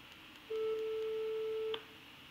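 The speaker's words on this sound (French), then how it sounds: "je vais l'appeler avec mon portable" A single steady ringback tone from a mobile phone call on speakerphone sounds for about a second, even and moderately loud, then cuts off over a quiet background.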